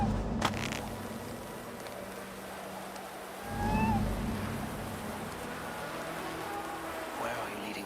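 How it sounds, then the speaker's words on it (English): A cat meows once, briefly and fairly clear, inside the game world of Assassin's Creed Valhalla, over a steady rain-like ambient wash with a low rumble. "Who put you up here, little cat?"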